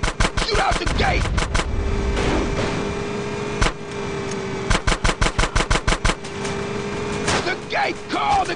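Rapid automatic gunfire bursts blast at a gate in a GTA San Andreas sewer tunnel shootout, loud, close and repeated in staccato volleys with brief gaps, with game dialogue shouted over them.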